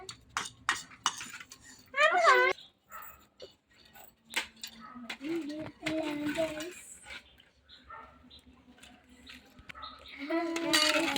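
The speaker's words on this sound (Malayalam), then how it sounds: "കുഞ്ഞാവ ഇവിടെ തവി വെച്ച് കളിക്കുവാണ് കേട്ടോ" A baby plays with a ladle, and the utensils clink and clatter in scattered bursts through a small home kitchen while an adult and a voice talk and babble over and between the metallic knocks.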